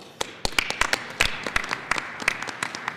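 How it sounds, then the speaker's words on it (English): Sparse applause from a business conference audience welcoming a panel, with a handful of distinct, close claps in an irregular rhythm rather than a dense wash. "Nice round of applause."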